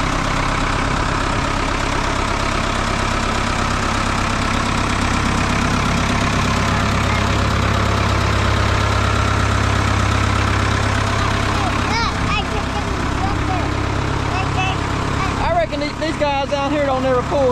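An old Ford 5900 tractor idles at an auction with a loud, steady low rumble that runs throughout. Someone talks over it and other voices join near the end.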